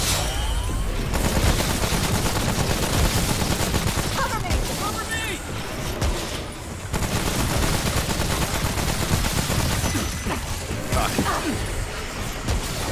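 Dense, continuous gunfire in the video game Remnant: From the Ashes, rapid bursts and heavy shots stacking loudly with scattered impacts, while players talk over the fighting.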